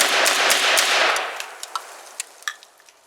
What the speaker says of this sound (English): Here is a clip of the first rounds fired.